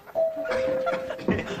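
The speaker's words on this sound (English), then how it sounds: "There's the bell." A ding-dong doorbell chimes indoors with two sustained tones, fairly loud and close, over a murmur of voices and brief laughter from a sitcom audience.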